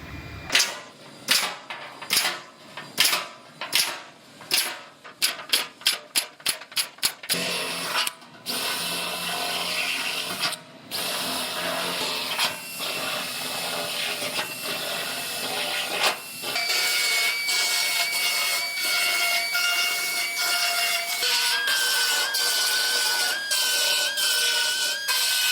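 A power drill bores plug-weld holes in a new steel floor pan for a Toyota, with a quick burst of short stuttering bites followed by a long, loud, continuous whine as the bit cuts through the sheet metal.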